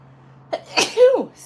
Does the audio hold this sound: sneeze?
yes